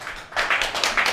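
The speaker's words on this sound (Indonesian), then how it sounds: "tepuk tangan untuk komunitas" A live show audience claps for the community in one short, close burst of dense hand clapping.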